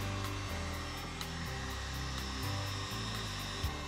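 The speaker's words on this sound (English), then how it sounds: "Take a heat gun and heat up the opposite side of the slit." Heat gun blowing hot air onto a slit PVC pipe, a steady close whirring fan drone with a slight pulsing hum, running continuously without talk.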